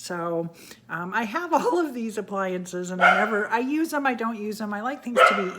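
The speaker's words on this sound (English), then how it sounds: "I'm sorry about the dogs." Dogs barking and yipping in a home kitchen, sharp repeated barks scattered through the moment while someone talks over them close to the microphone.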